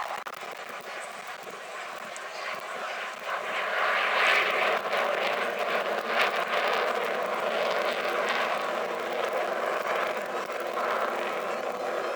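A fixed-wing aircraft passing at an airshow gives a steady broadband engine roar that swells around the middle of the pass and then holds loud, with no talk over it.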